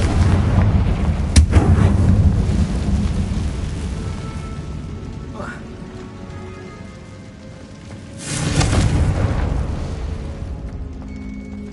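Confringo fire spell explosions in the Hogwarts Legacy video game, heavy booming blasts over a constant rumbling roar, with one sharp crack early and a big surging burst later, loud and close.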